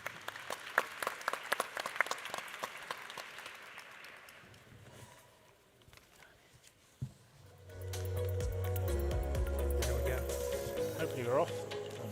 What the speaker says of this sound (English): I would like to ask for a big applause actually for my panelists